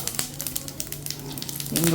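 A short burst of hot-oil sizzling from a South Indian tempering of fenugreek, urad dal, mustard seeds, cumin, dried red chillies, curry leaves, asafoetida and turmeric for dahi vada, crackling steadily and swelling louder at the end.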